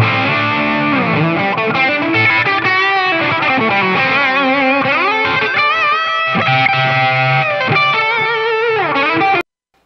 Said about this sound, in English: We had a little bit of delay, a little bit of compression, a little bit of reverb.